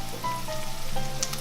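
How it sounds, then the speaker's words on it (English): Garlic sizzles steadily in a hot pan, a continuous crackling hiss heard up close with no talking. "So you can hear that sizzling away."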